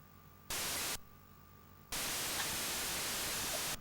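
Harsh white-noise hiss from a Cassette 50 game played on real home-computer hardware, a short burst followed by a longer steady blast, with a faint hum in the gaps.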